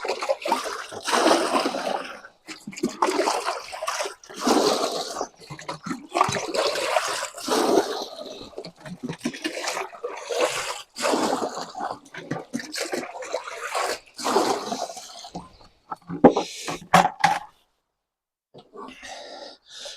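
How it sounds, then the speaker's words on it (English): Water moves through a siphon pipe in uneven gurgling, splashing surges with short gaps between them, then stops near the end. "I'm just going to transfer some water."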